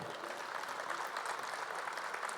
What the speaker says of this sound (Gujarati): હેત માટે એકવાર જોરદાર તાળી થઈ જાય.